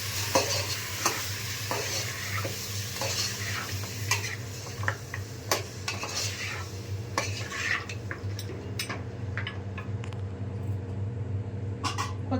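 Mutton and drumsticks are stirred in a pan, a utensil scraping and clinking against the metal in irregular strokes over a continuous low sizzle, fairly close and steady throughout.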